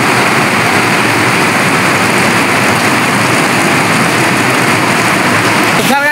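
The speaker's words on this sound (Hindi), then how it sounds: "बारिश लग चुकी है और वो भी बहुत ज़्यादा भयंकर वाली।" Very heavy monsoon rain in a Himachal Pradesh village near Mandi, a loud, dense, unbroken roar of downpour filling the whole stretch, with a faint voice near the end.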